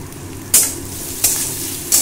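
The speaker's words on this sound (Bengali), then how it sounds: "এবার আমি এটাও প্রায় 1 মিনিট মতো মিডিয়াম ফ্লেমে ভেজে নেব।" Minced garlic and ginger fry in a pan over a medium flame for chicken stew, a steady close sizzle broken by three brisk spatula scrapes spaced evenly apart.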